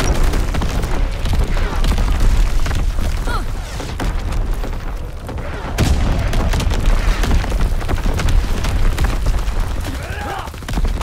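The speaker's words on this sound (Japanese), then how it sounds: "来るぞ。 敵の砲撃だ。 身を隠せ。" Enemy artillery barrage in the WWII shooter Call of Duty WWII, loud continuous booms and rumbling blasts with gunfire mixed in, and voices talking over the din.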